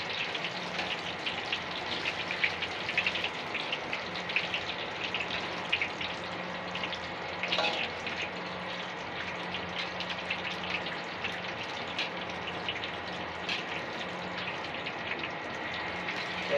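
Green chilies fry in a hot pan, giving a steady, close, broadband sizzle that keeps up evenly the whole time with small crackles and no talking.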